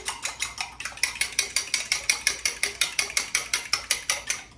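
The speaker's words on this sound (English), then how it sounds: "Just crack 1 egg, and we are going to beat that egg separately" One egg beaten in a bowl for fried cheese balls, a fast, even run of close, crisp whisk clicks against the bowl with no talking.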